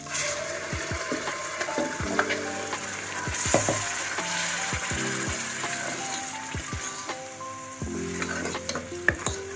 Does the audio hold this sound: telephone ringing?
no